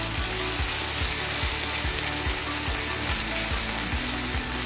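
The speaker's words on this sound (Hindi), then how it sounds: "अब सबसे पहले मैं कैरेट मिक्स कर देंगे, कैरेट इसको मिक्स करेंगे, थोड़ी देर इसको चला लें" Chicken and carrots sizzle loudly in a pan for a vegetable chicken biryani, with a steady crackling fry and regular scraping strokes of stirring repeating about twice a second.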